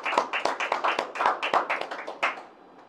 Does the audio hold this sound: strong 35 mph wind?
no